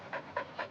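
Three quick, breathy pants from a dog, evenly spaced and close, soft and rhythmic with no other sounds around them.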